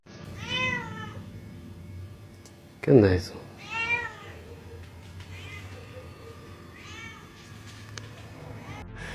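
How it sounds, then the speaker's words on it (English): A cat cries and meows loudly at 2 a.m., a few drawn-out, wavering wails with pauses between them, close enough to seem inside the house; someone briefly speaks between the cries over a low background hum. "being woken up by a cat crying is not one of them"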